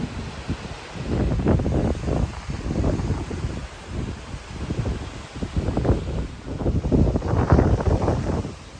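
Wind gusts outdoors buffet the microphone, swelling and fading in rough waves of low rumble with a faint rustle, and no talking.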